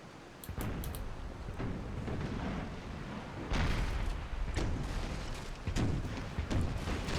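Artillery cannon fire on a battlefield in Empire: Total War, a series of booming shots, some in quick pairs, rolling over a continuous low battle rumble, with distinct loud blasts near the middle and end and no talking.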